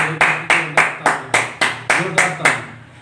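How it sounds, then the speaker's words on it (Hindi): An audience at a programme claps in unison, about nine sharp, loud claps spaced evenly in a steady rhythm, the last one fading out. "एक बार दिल से एमडी मोइन सर के लिए जोरदार तालियां।"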